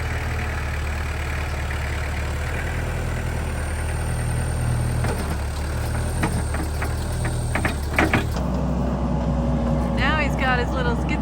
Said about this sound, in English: Got his little skid steer out and leveling out the RV pad.